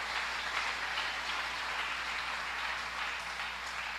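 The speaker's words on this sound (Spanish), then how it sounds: "Dale fuerte el aplauso, no te detengas." A church congregation applauds during a pastor's sermon, a steady, dense wash of clapping that holds evenly from start to finish with no pauses.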